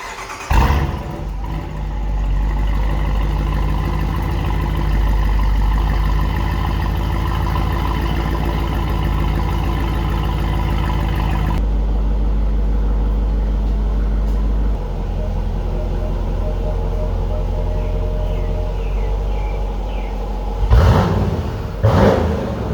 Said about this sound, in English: So I'm gonna go ahead and start the car because I gotta put it in the garage.